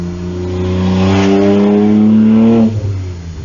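A car with an aftermarket exhaust revs loudly and close by, a deep droning engine note climbing and holding steady for a few seconds before dropping off, with no talk over it.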